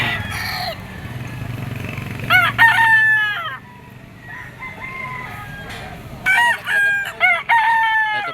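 A white hatch gamefowl rooster with blue legs crows loudly and close by, two full crows with a quiet gap between them, over a low background hum and faint chatter.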